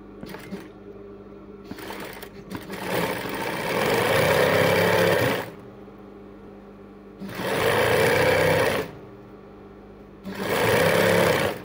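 A sewing machine stitches cord for a decorative tassel, running in three loud, steady bursts of whirring motor and needle chatter, with quieter handling pauses between them.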